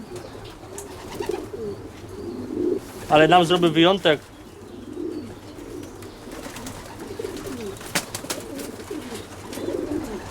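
Long-distance racing pigeons coo in a loft, one clear rolling coo sequence standing out midway over soft background cooing, while someone talks throughout.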